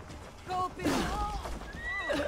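A horse in Assassin's Creed Valhalla lets out a loud, close whinny over faint hoofbeats while a player talks briefly over it.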